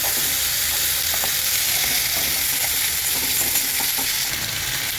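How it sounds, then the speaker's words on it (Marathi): Finely chopped tomato sizzles and fries with okra in a pan, a steady close crackle with occasional stirring scrapes and no talking. "ते बारीक चिरलेला टोमॅटो पण आता घालूया आपण याच्यामध्ये आणि छान परतून घेऊया"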